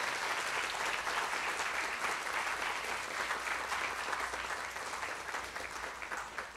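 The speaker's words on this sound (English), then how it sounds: "Let's give them a round of applause." Ceremony audience giving a sustained round of applause, a dense, even roar of clapping from a large crowd that continues at a steady level throughout.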